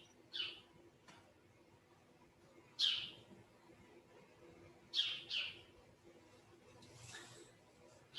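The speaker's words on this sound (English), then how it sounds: "The birds provide some rustic background music." Birds chirp outdoors at a backyard maple gathering, giving a few short, high, bright calls spaced several seconds apart over a faint steady background hum.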